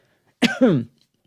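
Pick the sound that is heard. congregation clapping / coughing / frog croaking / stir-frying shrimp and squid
coughing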